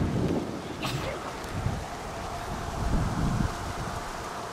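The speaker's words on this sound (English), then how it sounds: "It's cold and windy for us right now." Wind gusts buffet the microphone at a cold lakeside pull-off, a rough continuous roar with low thumping bursts and no speech.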